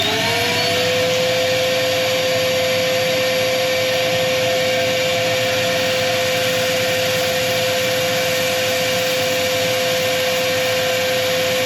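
Dust extraction unit running steadily while aluminium is turned on a woodturning lathe, a loud, constant whooshing roar with a sustained whine, uninterrupted and with no talking.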